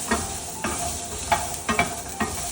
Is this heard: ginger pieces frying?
yes